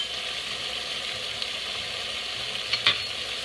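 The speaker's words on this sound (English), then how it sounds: "I'm talking over the frying" Food fries in a pan with a soft, continuous sizzle and hiss. A couple of brief clinks or scrapes are heard near the end, and there is no speech.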